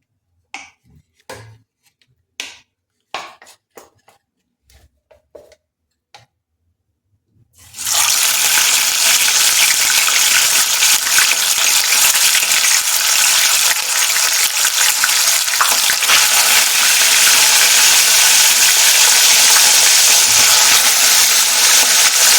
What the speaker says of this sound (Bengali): আমি এই নুন হলুদ মাখিয়ে রাখা মাছগুলো এই কড়াইয়ের মধ্যে সব একটা একটা করে দিয়ে দেব।